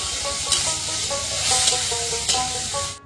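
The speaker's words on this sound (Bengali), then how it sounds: "ফুলকপি আর মাশরুমটা ভালো করে আবার সবগুলো নেড়ে চেড়ে মশলাটা দিয়ে দিলাম।" Cauliflower and mushrooms fry in a pan with spices while being stirred, making a steady hiss broken by a few brief scraping bursts. Close and continuous, with no talking.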